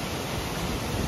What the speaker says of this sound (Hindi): ये देखो गाइस पानी देखो कहाँ से आ रहा है